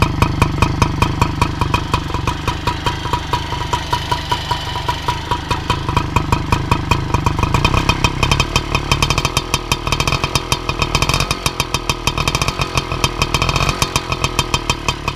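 A 1979 Motobécane 51 Trail moped runs steadily, its small two-stroke engine and exhaust giving a fast, rasping, evenly pulsing putter that stays close and loud throughout, with brief rises in revs and no talking.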